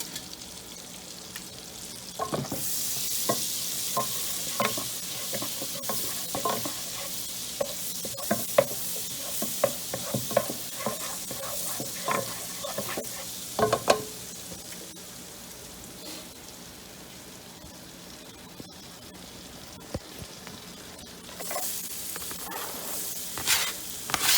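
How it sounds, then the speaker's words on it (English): Garlic and scallions fry in melted butter with a steady, close sizzle and crackle. Occasional scraping stir sounds run through it, and no one speaks. "Once the butter's melted, we're going to mix in the garlic and the scallions."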